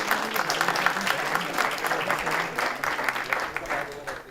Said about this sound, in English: Give a huge round of applause to ma'am.